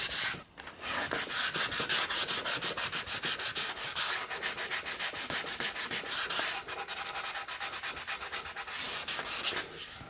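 Hand sanding of a Rickenbacker guitar's wood body with 320 grit sandpaper gives a close, rapid run of rhythmic scratchy rubbing strokes, steady throughout with brief pauses and no talking.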